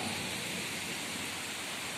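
Heavy rain pours down at the Kangra fort temple, a dense, steady roar of drops drumming on surfaces with no voices.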